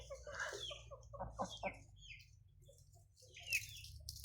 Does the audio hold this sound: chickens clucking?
yes